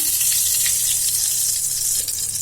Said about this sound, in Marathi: इथे मी कढई ठेवलेली आहे त्यामध्ये मी तूप घालत आहे